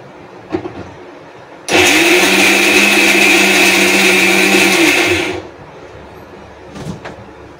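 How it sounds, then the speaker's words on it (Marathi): A mixer grinder roars to life and runs steadily for about four seconds, grinding roasted chana and green chilies, loud and close, with a few faint knocks before it starts and after it stops. "फुटाणे आणि हिरवी मिरची पण आपण मिक्सरला बारीक करून घेणार आहे."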